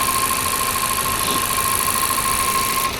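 A 2024 Toyota Corolla engine runs with a steady, even hum under constant broadband road or cabin noise, holding the same level throughout with no breaks and no talking.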